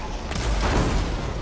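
Enemy rocket launchers fire in a Horizon Forbidden West battle, a dense, booming burst of explosive blasts that rumbles loudly through the short moment.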